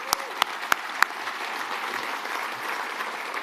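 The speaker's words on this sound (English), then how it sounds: "they need an applause if they're here" Steady audience applause from a crowd at a campaign launch event, with a few sharper claps standing out near the start, then an even wash of clapping sustained throughout.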